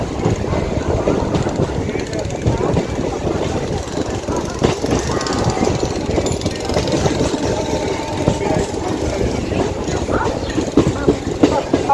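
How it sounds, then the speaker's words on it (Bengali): A local train rolling into Sheoraphuli Junction on the Howrah–Tarakeswar line, a continuous rumbling drone with wind buffeting the microphone and someone talking over it. "ট্রেন এখন আমাদের চলে এসেছে শেওড়াফুলি জংশনে"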